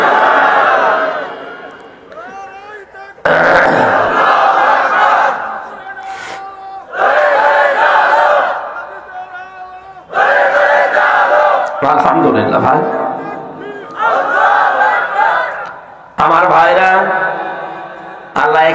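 A large crowd at an open-air Bangladeshi Islamic waz sermon roars the takbir response in several loud, drawn-out group chants. Quieter gaps where the leader's call is heard separate the chants.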